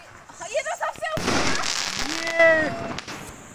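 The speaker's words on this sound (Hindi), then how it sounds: "पटाखे फोड़े हमें बहुत ही रंगीन कलरफुल और बहुत ही मस्त एक के बाद एक फोड़ा जा रहा था" Diwali sky-shot firecrackers burst in quick succession, a dense crackling roar spreading across the sky with a rising whistle near the end, while voices talk excitedly over the noise.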